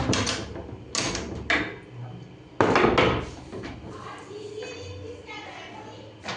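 A wooden door bolt is worked loose and slid open, giving several sharp wooden knocks and clunks close by while children talk over and between them.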